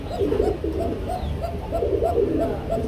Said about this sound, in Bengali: কুকা কবুতর দেখেন ডাকতেছে